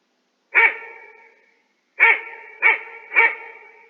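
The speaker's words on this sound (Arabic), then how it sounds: "ده كلب" A dog barks four times in a clean, quiet setting: one bark, a pause of over a second, then three more in quick even succession, each sharp and close with a short ringing tail.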